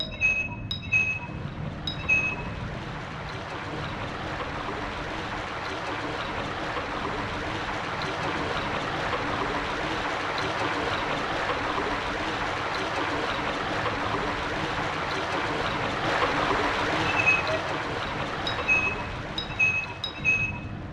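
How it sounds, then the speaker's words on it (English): Water drains through an opened drainage valve in the Silent Hill video game, a steady broadband rushing flow that fills the whole stretch, with faint high electronic beeps at the start and end. "Putting the rubber ball there makes the water go over that hole and instead go where the key is."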